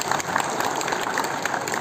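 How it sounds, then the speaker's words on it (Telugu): Audience applause welcoming a state information and public relations minister onto the stage at a journalists' gathering in Vijayawada; dense, steady clapping from a crowd throughout, fairly close and even. "కె పార్థసారథి గారిని వేదిక మీదకి మీ అందరి కరతాళం మధ్య ఆహ్వానిస్తున్నాను."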